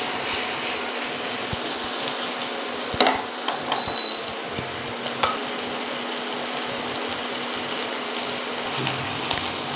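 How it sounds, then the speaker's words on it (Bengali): Onion fries lightly in a pan for aloo tikki burger filling, giving a steady, moderate sizzle close by. A spatula scrapes and taps against the pan several times throughout, with no talking. "পেঁয়াজটা হালকা করে ভাজা হয়ে গেছে"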